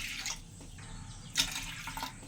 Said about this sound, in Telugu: ఇప్పుడు 3 గ్లాసులు వాటర్ పోసుకున్నాము